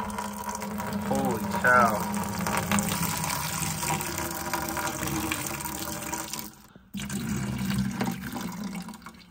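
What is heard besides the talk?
dirty water dumped from AC coil cleaning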